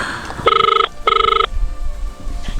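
A telephone rings through a speakerphone on a live talk show, two clear electronic ring bursts over a busy studio background.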